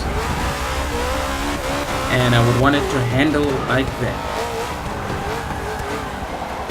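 Mercedes-Benz race car in the Forza 6 racing game, engine rising through quick revs with brief tire squeal, moderately loud under a voice talking over the gameplay.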